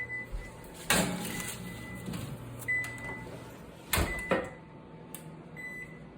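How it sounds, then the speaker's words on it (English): A baked cabbage dish with melted Parmesan going back into a kitchen oven, with a few close clunks and sliding knocks from the rack and door over a steady appliance hum. "We're going to stick her back in the oven."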